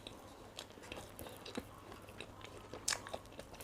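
Someone bites into a slice of ham pizza and chews it close to the mic, with faint repeated crunches and soft mouth sounds that grow into a sharper bite near the end.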